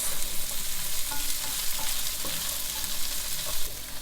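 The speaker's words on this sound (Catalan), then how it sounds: "Que es torrin una mica els cigrons, que també els hi quedarà millor." Chickpeas frying in oil in a pan, a loud, dense, steady sizzle with faint scraping as they are stirred, heard up close.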